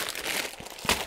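Plastic bag of building bricks for a Pantasy Astro Boy set crinkling, a brief close rustle with a sharper crackle near the end.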